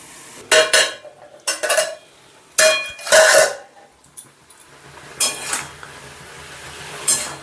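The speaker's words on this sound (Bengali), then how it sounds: "তারপরে এটা হালকা একটু নেড়ে তারপরে ঢাকা দিয়ে দিচ্ছি।" Food in a pot stirred with a few metal clanks and scrapes, followed by a lid set down with a loud clatter, sharp kitchen knocks separated by short pauses.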